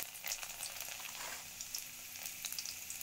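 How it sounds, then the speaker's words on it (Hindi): Hot oil in a pan sizzles steadily and close up as cumin seeds and garlic go in for a sambar tempering, a dense continuous crackle with small bursts of spitting. "पहले डालेंगे हम पैन में ऑयल, अब हम डालेंगे जीरा, उसके बाद हम डालेंगे लहसुन"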